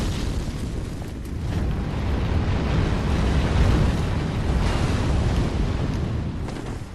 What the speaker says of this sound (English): the ability to summon gouts of fire right where you're standing